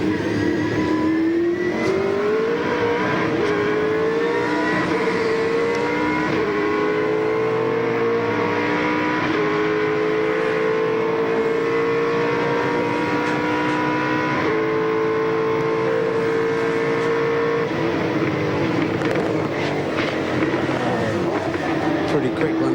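A V8 Supercar racing engine on a wet track, the throttle revving and shifting through rising and falling pitches for a long, continuous run while a commentator talks over it.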